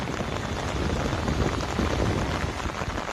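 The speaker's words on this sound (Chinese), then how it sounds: "现在还下着大雨" Heavy rain falls at night in remote high mountains, a dense, steady roar of drops on surfaces that stays loud and unbroken throughout.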